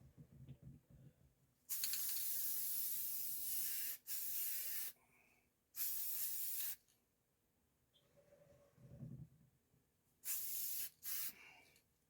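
Spray paint hissing onto a motorcycle helmet being refinished a deeper red, in several separate bursts of one to two seconds each with short pauses between, close and fairly loud.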